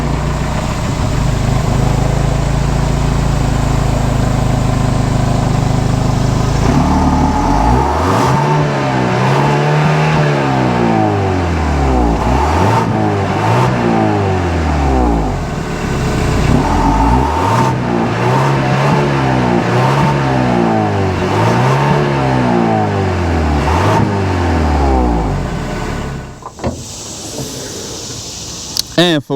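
A 2022 Genesis GV70's 2.5-liter turbocharged four-cylinder engine revs repeatedly from idle, rising and falling in a steady series of throttle blips, close and loud, before settling back near the end.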